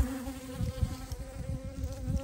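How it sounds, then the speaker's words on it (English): A big bumblebee buzzes near honeybees with a low, steady, wavering drone that rises and falls in loudness as it moves close. "Look at that big bumblebee."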